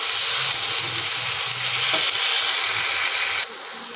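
Ginger garlic paste frying in a pan for Bengali-style egg pulao, a steady broad sizzle with faint stirring scrapes, close and continuous with no talking.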